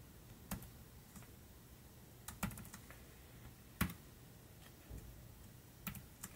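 Scattered key presses on a Logitech K600 wireless TV keyboard, soft irregular clicks and taps spaced apart over a faint steady background hiss, nearby and quiet.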